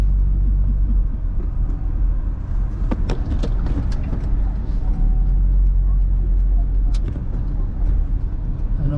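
Heavy road traffic in the Philippines, heard from inside a vehicle as a continuous low rumble with scattered clicks and knocks, while people talk faintly underneath.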